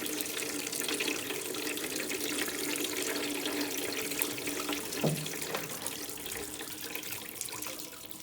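Water poured onto micro mesh aluminum gutter guard panels, a continuous loud splashing rush with steady trickling and gurgling that barely changes over its length.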